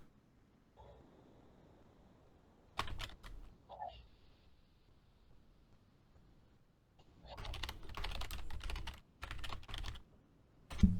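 Typing on a computer keyboard comes in a short burst, then a longer run of rapid close clicks, fairly quiet, with faint background sound between.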